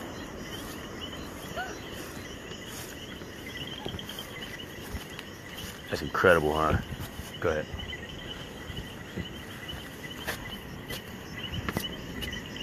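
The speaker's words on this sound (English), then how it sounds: "you can hear the frogs and the birds just chirping away" Insects, frogs and birds call steadily outdoors on a hill above the ocean in Puerto Rico, a dense chirping chorus under brief nearby speech.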